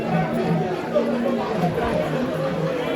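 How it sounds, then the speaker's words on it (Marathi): Dense crowd chatter fills the darshan queue at Tuljabhavani temple, a steady murmur of many overlapping voices close around. "लाईनीत जाम गर्दी आहे."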